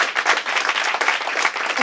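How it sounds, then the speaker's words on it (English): An audience breaks into loud, dense applause, many hands clapping close and continuously for a couple of seconds. "Let's give him a big applause."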